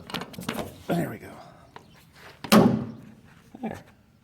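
A metal door on a Massey Ferguson 8570 combine shuts with a solid thunk and a brief rattle partway through, close to the listener, alongside someone talking quietly.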